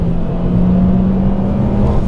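A JDM EP3 Honda Civic Type R engine revs hard and pulls under acceleration, a steady loud drone with a strong rising tone held throughout, close and continuous with no speech.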